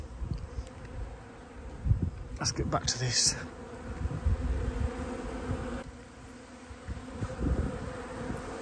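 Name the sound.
bees buzzing around a hive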